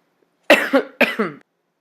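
Two sharp coughs in quick succession, close and loud, from a person pausing while painting a chipboard heart piece for a scrapbook, with near silence before and after.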